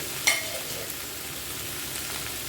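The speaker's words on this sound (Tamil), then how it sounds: "மஞ்சத்தூள் அதுக்குள்ளே மசாலாத்தூள்லாம் போட்டுக்கிட்டு வதக்கி விட்டுலாம்" Steady sizzling of vegetables sautéing in a pan, a soft broadband hiss throughout with a brief clink near the start.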